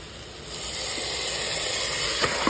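Marinated pork hitting a hot pan with garlic for menudo, giving a steady loud hiss and sizzle close up with a few small pops near the end.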